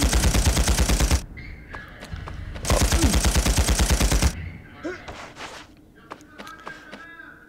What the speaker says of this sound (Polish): To jest oczywiście broń, która ostro wali serią w tym momencie.